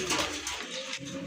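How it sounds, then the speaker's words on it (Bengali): Pair of Rajgolla pigeons, colourful lace-winged birds, cooing softly in a loft, with a low repeated murmur over steady background hiss and no voices. "প্রথমে আপনারা দেখতে পাচ্ছেন এক জোড়া অসাধারণ কোয়ালিটিফুল কালারফুল এক জোড়া রাজগোল্লা কবুতর"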